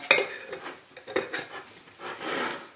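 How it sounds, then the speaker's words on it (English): A metal lid clatters onto a pot of homemade hot chilli sauce, a couple of sharp clinks followed by softer scraping and rattling. "pop the lid back on"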